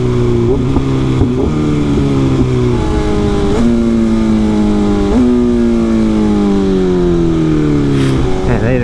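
A BMW S1000RR sport bike roars loudly and close up on the road, its engine pulling through the gears with sharp, rapid quickshifter upshifts that make the exhaust note dip and climb again and again.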